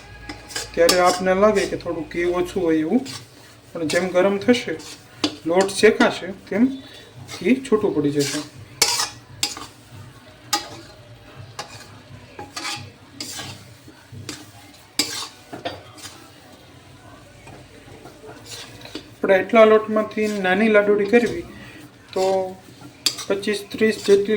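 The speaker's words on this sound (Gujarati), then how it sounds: "હલાવતા રહીશું ગરમ જેમ થશે એમાંમાંથી ઘી છૂટું પડતું જશે" Spoon scraping and clinking against a pan as besan and ghee are stirred over a gas flame for magas ladoo, with repeated metallic knocks through the stretch and a voice talking at times alongside.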